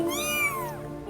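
Tiny rescued kittens under three weeks old give a high, thin meow that rises and falls, close and clear over a soft background hum.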